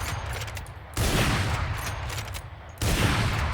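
Operator sniper rifle in Valorant firing two heavy single shots roughly two seconds apart, each a loud sharp crack with a lingering boom and tail, with no voices.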